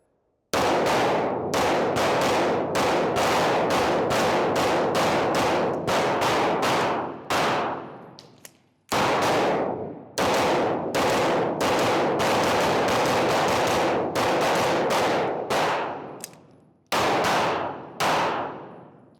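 Stealth Arms Platypus 1911 pistol fired in rapid strings of loud, sharp shots, several bursts of evenly spaced reports separated by short pauses, close and with no talk.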